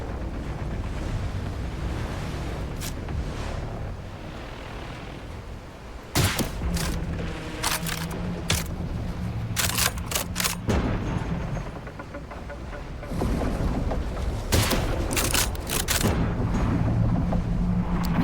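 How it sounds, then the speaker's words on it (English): A big gun in The Last Caretaker video game fires in sharp, loud bursts with heavy thuds, some in quick clusters, over a constant windy, surf-like roar. "Those sounds when you hit that big thud after I fire, I believe that's the casing. These are big bullets."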